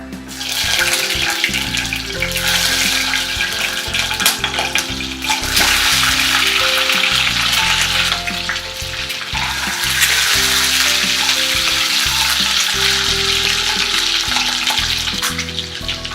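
Eggs frying one by one in mustard oil in a pan, giving a loud, continuous close sizzle with bubbling crackle that swells as each egg hits the oil.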